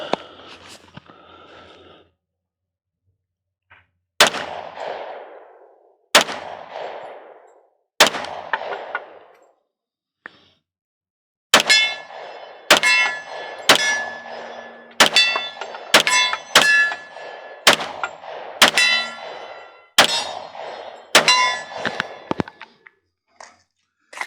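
Sharp, loud shots from a Ruger LC Carbine .45 pistol carbine ring out: three spaced single shots, then a quicker string of about ten, each with a short metallic ring and decay, and no talking.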